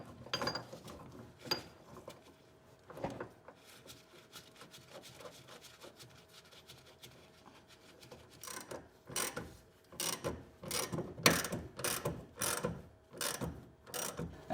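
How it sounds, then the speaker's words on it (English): A ball joint remover tool worked on the steering drag link of a 1982-1992 F-Body Trans Am makes soft ratcheting clicks at first, then a run of loud, rapid ratchet bursts near the end, close and without talk. "And now install your ball joint remover tool."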